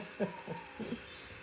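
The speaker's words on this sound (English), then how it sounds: "It flips the wings out at such a speed that they vibrate and they make that squeak sound." Three quick, thin squeaks in a short burst, made by a bird's wings vibrating rather than its voice, close and fairly faint.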